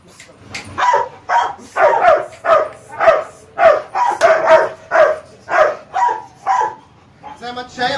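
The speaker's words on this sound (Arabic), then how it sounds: "ده كلب عنده 7 شهور 8 شهور" A seven- to eight-month-old dog barks in a loud, close, regular series of about a dozen sharp barks, ending with a brief whimpering yip.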